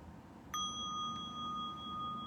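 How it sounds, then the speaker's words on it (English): A small mindfulness bell is struck lightly once, giving a single clear, bright ding that rings on with a sustained, gently fading tone over faint room hum. "I would wake up our little baby bell by striking lightly like this."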